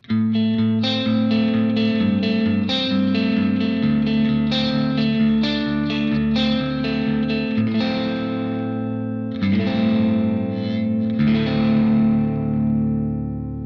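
Heavy distorted metal guitar riffing through a Victory Kraken MKII amp with reverb, chugging palm-muted chords and ringing accents, played loud and alone without any talking.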